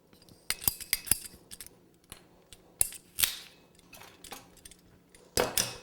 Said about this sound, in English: Take my cutters. These are just PVC pipe cutters. And I'm going to cut 4 pieces.